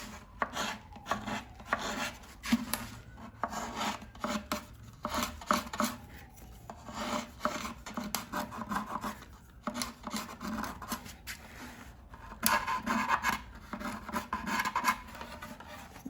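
Glue residue is sanded by hand off the body of an electric bağlama, giving repeated close rasping strokes in irregular bursts with brief pauses, loud and without talk.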